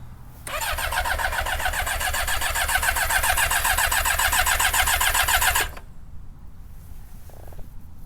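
A car engine cranks with a rapid rhythmic churning for about five seconds on a lithium-ion restart battery in 12-degree weather, then cuts off, leaving quiet outdoor ambience.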